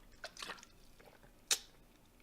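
A Sim drinking a glass of water in The Sims 4, heard as a few short wet gulps and squishy sips, closing with a crisp bright splash.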